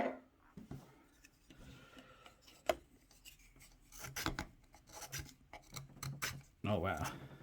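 A steel striker scrapes along a ferro rod fire starter in short, harsh rasping strokes with irregular gaps between them. The strokes are close and vary in loudness.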